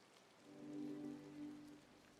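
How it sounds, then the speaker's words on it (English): Rain falls in the game Disney Dreamlight Valley as a faint, soft wash of patter, with a low tonal swell rising and fading beneath it. "Here comes the rain."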